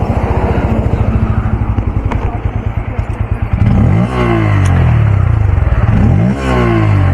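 A 2024 Bajaj Pulsar N160 motorcycle exhaust idles with a loud, close, rapid thumping beat, then revs up sharply twice, the pitch rising and falling with each blip.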